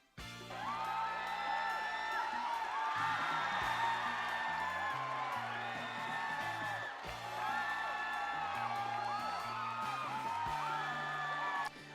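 An excited crowd whoops and cheers, many voices yelling and hollering together at close range, loud and sustained for several seconds.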